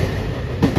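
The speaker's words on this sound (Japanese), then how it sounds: "内では見ない長さの貨物列車です。" A long freight train rumbles steadily past at Okayama station, its continuous wheel and car noise loud and close across the short stretch, with a low thump near the end.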